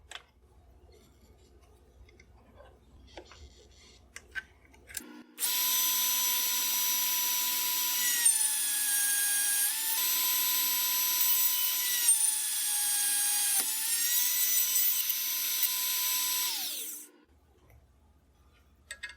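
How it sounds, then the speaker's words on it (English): Power drill boring out the ends of a trigger slot in a wooden military rifle stock, a loud steady high whine for about twelve seconds with slight pitch dips as the bit bites, then spinning down to quiet. "I'll switch to a drill bit to drill out either end."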